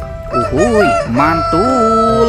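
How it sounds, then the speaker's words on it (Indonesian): A toy rooster gives a loud, close cock-a-doodle-doo crow in two rising-falling bursts, with a brief spoken word alongside. "Ini ada ayam berkokok."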